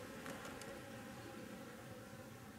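A honeybee buzzes faintly over a beehive frame under a plexiglass frame cover, a soft continuous drone with brief higher wing whines near the start.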